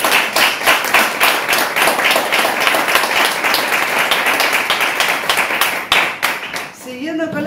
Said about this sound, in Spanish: un fuerte aplauso para Esther